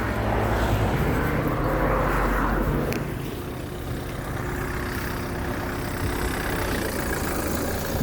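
A scooter engine idles with a steady low rumble, slightly louder at first and then settling into an even drone.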